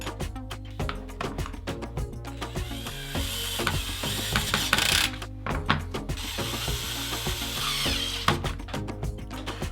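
Close mechanical clicking and ratcheting as a switch is screwed back into a Hot Wheels Roller Coaster Rally toy during switch adaptation, with rapid repeated ticks, small plastic knocks and short pauses throughout.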